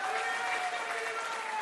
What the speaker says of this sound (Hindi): इसके लिए कम से कम आप लोग ताली बजाइए